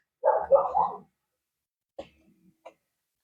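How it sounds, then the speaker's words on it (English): A dog lets out a quick burst of two or three barks, then after a pause a couple of softer, short woofs. "Barking at the neighbors."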